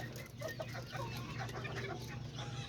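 Chickens cluck faintly in a yard around a yellow giro rooster, soft scattered calls over a steady low background hum.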